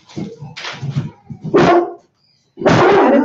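A dog barks repeatedly, nearby and loud, with rough, irregular bursts followed by a short silence and then a final strong bark.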